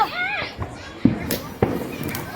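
Diwali firecracker bombs burst with two sharp, loud bangs about half a second apart while excited voices talk and call out over them.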